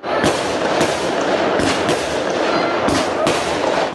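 Loud fireworks set off by tenants at a neighboring residential property in Krasnoyarsk, Russia, crackle and pop continuously, with several sharp bangs standing out over a dense, fizzing barrage.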